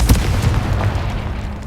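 Casting the Confringo blasting spell in Hogwarts Legacy produces a loud, close booming explosion with a sharp burst at the start, then a rumbling tail that slowly fades.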